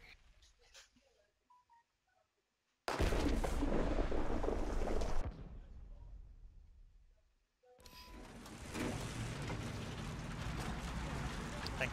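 Heavy artillery fire in War Thunder, a sudden loud booming blast that rumbles on for a couple of seconds and fades, followed later by another loud sustained roar of battle, with brief speech near the start.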